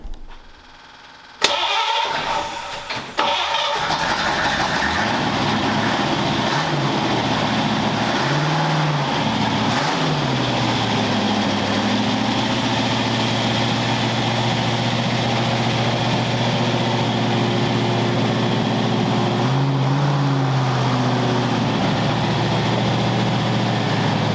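A DeLorean's engine cranks and catches with a sudden roar, then settles into a steady, loud idle with a low droning hum and brief swells in revs.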